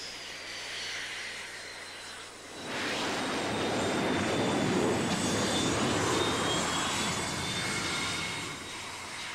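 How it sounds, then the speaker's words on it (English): A 20-ton airplane lands on an aircraft carrier deck at about 120 miles an hour, a loud sustained engine roar that swells sharply after a couple of seconds and holds broad and rushing with a faint high whine. "A 20-ton airplane landing at 120 miles an hour is brought to a halt in 200"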